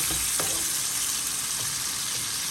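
Shrimp and onions fry in a pan, producing a loud, constant hissing sizzle with a couple of faint stirring taps early on.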